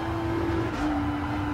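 A Renault RS01 '16 Group X race car in Gran Turismo Sport holds a fairly quiet, steady engine drone with the throttle lifted through a corner; its pitch dips slightly partway through.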